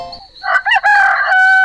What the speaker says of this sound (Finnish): Taas kukko.